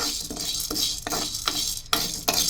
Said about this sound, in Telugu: ఒక గ్లాసు శనగపప్పుని సన్న సెగ మీద మంచి రంగు వచ్చే వరకు వేయించుకోవాలి.